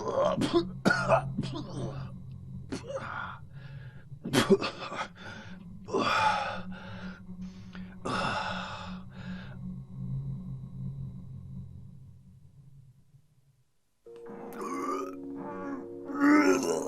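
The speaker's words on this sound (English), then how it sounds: "let's go investigate that gross puking noise" Gross retching and puking noises from a character in the video game Silent Hill 2 come in repeated coughing, gagging bursts, close and loud, then fade out before a short electronic tone sounds near the end.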